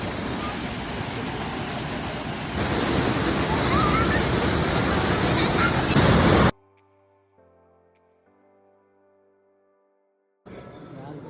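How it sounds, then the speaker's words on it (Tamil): Manimuthar waterfall pouring down with force, a loud continuous broadband roar for about six seconds, then an abrupt cut to near silence with faint tones before the roar briefly returns. "தண்ணியோட ஃப்ளோ அந்த மேலே விழுத்து கூட வந்து ரொம்ப ஃபோர்ஸாக தான் விழுந்துட்டு இருந்துச்சு"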